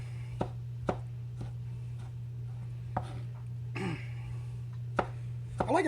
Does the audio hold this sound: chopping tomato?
yes